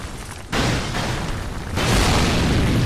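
A barrel blows up after being struck in Dark Souls II, a dense, roaring blast that swells in two stages and stays loud and sustained to the end.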